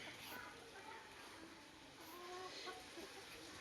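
Chickens cluck softly on a small free-range poultry farm, faint intermittent calls over a steady outdoor background while a person talks nearby.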